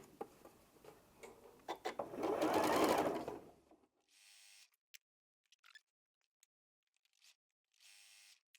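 A sewing machine stitches a quarter-inch seam on a pink log cabin quilt block, running in a steady close whir for about two seconds before stopping, followed by faint scattered clicks and fabric handling.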